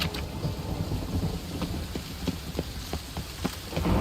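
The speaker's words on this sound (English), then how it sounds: "A storm, damn it." Thunderstorm in The Witcher 3 game world: steady heavy rain hiss with low rolling thunder rumbles and scattered sharp drop ticks, continuous and fairly close, no voices.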